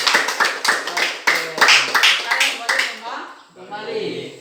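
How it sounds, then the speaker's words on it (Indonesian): A classroom group claps for a classmate at an Indonesian junior high school, a burst of close, uneven hand claps over about three seconds, then a voice begins talking as the clapping fades. "Oke, tepuk tangan buat Luna."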